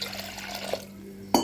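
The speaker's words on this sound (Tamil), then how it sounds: "இப்போ சேர்த்துட்டு தண்ணி தேவையான அளவு சேர்த்துக்கலாம்." Water pours into a pressure cooker holding dal, garlic and tomato, a soft, close trickle and splash that swells into a brief brighter gush near the end.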